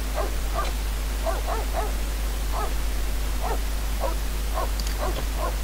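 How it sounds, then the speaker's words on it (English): A small dog in The Sims 3 barks in short, separate yips about once or twice a second, with some whimpery notes, over a steady low hum and no talk. "We're gonna have to put up with him barking just because"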